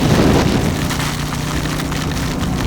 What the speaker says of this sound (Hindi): बारिश ज़्यादा हो गया ऐसा लग रहा है ना अभी